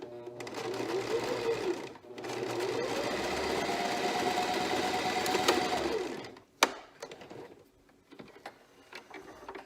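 A sewing machine runs in steady bursts while stitching together the curved end pieces of a fabric face mask. The motor whirs continuously for several seconds, then stops, followed by a sharp click and faint handling sounds.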